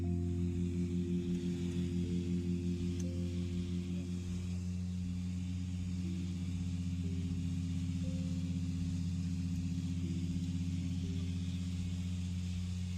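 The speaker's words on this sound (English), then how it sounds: "The engine roars up to full power." A small plane's piston engine drones from inside the cockpit, a low, even, harmonic hum at high power that holds steady, fairly quiet and alone.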